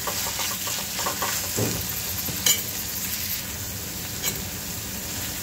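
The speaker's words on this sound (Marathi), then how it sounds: "यामध्ये कांदा घालून घ्यायचा आहे. याला आता आपल्याला छान परतून घ्यायचं आहे." Chopped onion sautéing in a pan with a ginger, garlic, chili and coriander paste, a steady close sizzle with occasional stirring scrapes and clinks.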